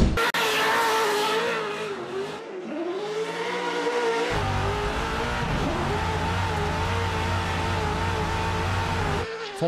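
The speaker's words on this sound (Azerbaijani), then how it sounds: "Volkswagen markasının 1000 at güclü Passat modeli drift edərkən görüntülənib." A 1000 hp Volkswagen Passat drift car at a Formula D event, its engine howling loudly and continuously with shifting revs, dips and tire noise, close and dominant throughout.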